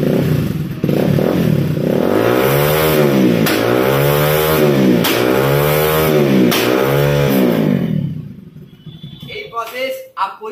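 A Bajaj Pulsar NS 200 motorcycle revs hard in repeated rising sweeps, its exhaust crackling and popping as the kill switch is toggled, loud and close, then cutting out to quieter clatter at the end.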